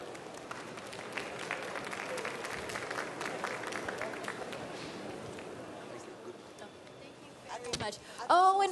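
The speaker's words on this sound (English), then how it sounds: "Ladies and gentlemen, a round of applause." Audience applause fills a hall at the world pastry championship, a steady broad clatter of many hands that thins out toward the end as a voice and a few sharper sounds come through.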